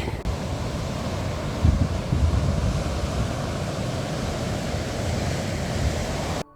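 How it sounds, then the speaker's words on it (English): Rough, continuous roar of wind and crashing sea waves, loud and close, buffeting the microphone, with no voices. "despite the rough seas, which you might be able to hear behind me"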